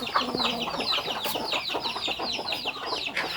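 Chickens cluck in a vegetable garden plot at a self-sufficient family home in the countryside, with rapid, repeated clucks and squawks from several birds close by and continuing throughout.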